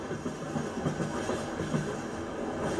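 Rhythmic clickety-clack of train wheels rolling over rail joints, heard from inside a moving railway carriage on a northern railway line, a steady continuous rumble with repeating beats and no talk.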